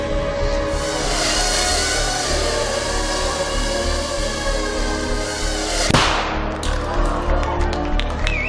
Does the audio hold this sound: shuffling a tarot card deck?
no